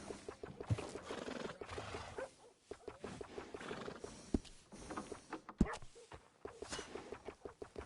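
A horse in the video game Red Dead whinnies in a faint, distant tone amid hoof clops and background game sounds, with a few sharp transient knocks.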